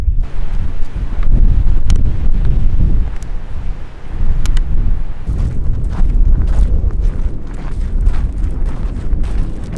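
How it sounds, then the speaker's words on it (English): Steady wind buffeting the microphone at drought-exposed Lake Mead, a loud low rumble that continues throughout with a brief dip midway and no voices. "windy day."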